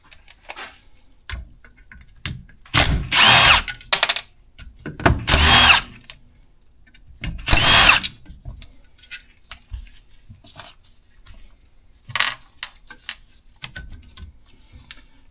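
Power driver backing Torx screws out of a car alternator's rear cover: three loud whirring bursts of a couple of seconds each, then a shorter one, separated by quiet clicks and handling noises.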